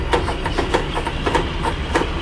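The D1062 diesel locomotive's engine revs as it pulls away from a station, giving a low, steady rumble with regular rhythmic pulses, heard from inside the cab.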